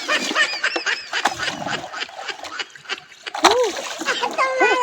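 Splashing sea water as people bathe at the beach, with irregular near splatters and sloshes mixed with chatter and excited voices talking throughout.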